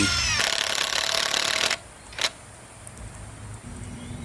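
A Masaru SCDI-145 cordless brushless impact driver, rated 250 N·m, drives a screw into wood with a loud, rattling hammering burst of about a second and a half. A brief second burst follows, then quiet room tone. No one speaks.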